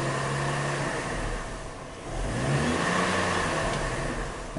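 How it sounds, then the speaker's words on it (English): Car engine with a crankshaft/camshaft correlation fault idling roughly and shaking the vehicle, a steady uneven low rumble with a brief rev, heard close and alone. "You can really tell it's running rough there, shaking the vehicle."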